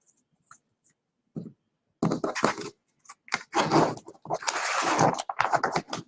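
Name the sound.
shuffling herbal tarot cards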